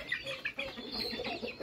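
A crowd of chickens clucks and chatters continuously at close range in a busy farmyard in Thailand, with overlapping calls and no talk.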